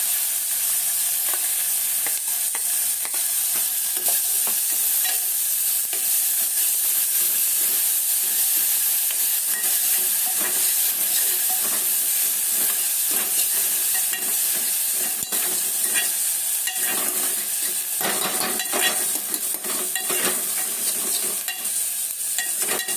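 Chillies and green garlic fry for a Gujarati tomato chutney, a steady loud sizzle with crackling pops and occasional stirring scrapes running continuously for over twenty seconds, close up with no talk.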